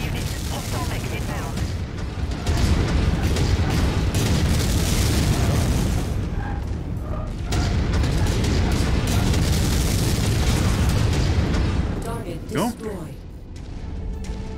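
Missiles launch and explode in MechWarrior 5, with loud booms and bursts rolling over a steady rumble of mech combat, a few sharper pops near the end, while voices talk over the action.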